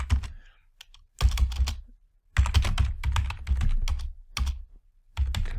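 Computer keyboard typing comes in several bursts of rapid clicking keystrokes separated by short pauses, close and fairly quiet, with no speech.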